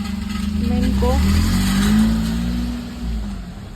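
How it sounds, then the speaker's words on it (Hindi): A car being parked gives a steady low engine rumble close by that swells gently and then eases, with a voice faintly present underneath. "और ये गाड़ी लगा रही हैं।"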